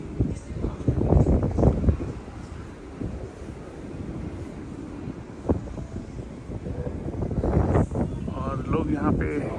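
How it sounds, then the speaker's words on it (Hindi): Cold wind blowing over the sea on a foggy evening, gusting and buffeting the microphone with a low roar, while someone speaks over it in bursts. "ठंडी ठंडी हवा चल रही है, जैसे कि आप वीडियो में सुन ही रहे होंगे"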